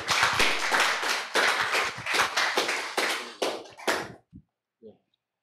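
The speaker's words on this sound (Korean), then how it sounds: "우리 박수로 환영하도록 하겠습니다" A church youth worship congregation claps to welcome a missionary, a dense burst of hand claps lasting about four seconds that tapers off into a few scattered final claps.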